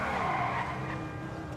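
SR1 car in GTA 5 skids through a slide, tires squealing with a sustained, loud scrub over steady engine noise, tapering slightly at the end.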